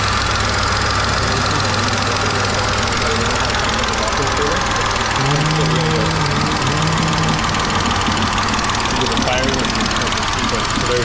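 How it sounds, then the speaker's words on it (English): A BMW E46 engine idles with a slight misfire, a steady low rumble with faint irregular stumbles running throughout, loud and close, with people talking over it. "you can hear it's got a slight miss."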